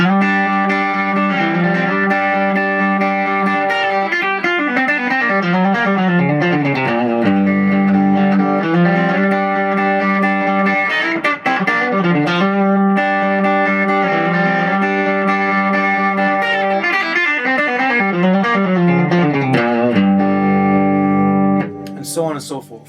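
Country picking licks on electric guitar played in time over a steady groove, twangy bright phrases with bends and slides ringing continuously and loud, ending with a short pause near the close.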